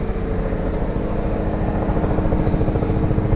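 A helicopter flies overhead, loud and close. Its rotor throbs with a steady, dense rumble that goes on for the whole stretch, with no talking.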